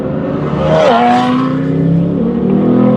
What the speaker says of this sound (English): I've popped the Mustang into track mode as well, just because it sounds silly